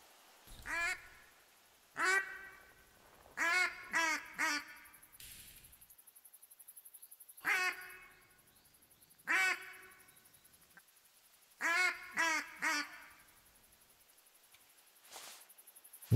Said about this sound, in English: I hear a duck over there.